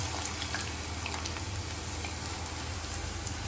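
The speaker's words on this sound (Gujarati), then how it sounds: "આપણે આને ધીરા ગેસ ઉપર જ ફ્રાય કરવાની છે." Raw banana chips frying in oil over low heat produce a continuous soft sizzle with faint scattered pops, steady and even throughout with no speech.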